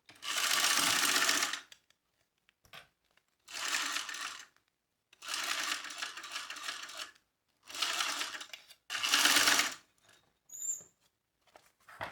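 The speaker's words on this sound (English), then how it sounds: "now we can go sew this on at 3/8 of an inch seam allowance" A sewing machine stitching a fanny pack seam, running in several separate bursts of rapid whirring with short silent pauses between them, close and fairly clear.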